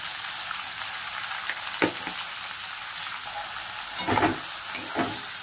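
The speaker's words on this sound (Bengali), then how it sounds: "চিংড়ি মাছ বেশি ভাজবো না, তাহলেই তো জানেনি রাবারের মতন হয়ে যাবে।" Prawns frying in a pan with turmeric and salt, a steady sizzle running throughout with a few louder bursts of spattering and stirring near the end, no voices.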